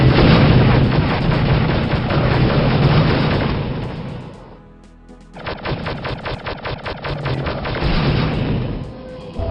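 Loud, rapid assault cannon fire in Star Wars: Dark Forces rattles almost continuously, dipping briefly midway before another fast burst of repeated shots resumes.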